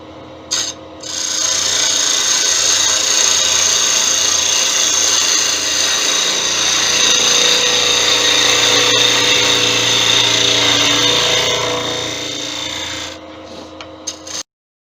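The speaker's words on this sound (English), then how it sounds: "This wood is so hard to cut." A wood turning tool cuts into very hard wood spinning on a lathe, giving a steady, loud rasping scrape with a whining motor hum beneath it that runs unbroken for about twelve seconds before stopping.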